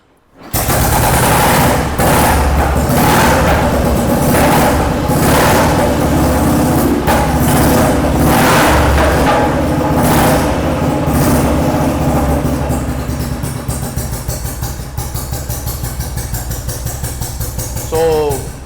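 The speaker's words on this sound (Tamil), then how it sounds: "வெஹிக்கிளோட தம்ப் கேளுங்க, ரொம்ப சூப்பராக இருக்கும்." A vintage motorcycle engine starts close by and settles into a loud, steady thumping idle that lasts throughout, with a voice briefly audible at the end.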